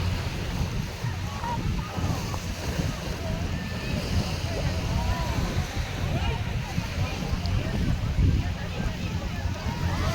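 Strong waves washing along the Manila Bay shoreline under steady wind, a dense continuous roar with low rumble, and people's voices faintly mixed in.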